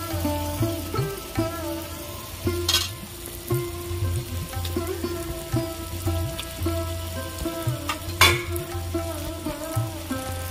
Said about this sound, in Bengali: এবারে আমি রসুন বাটা দেবো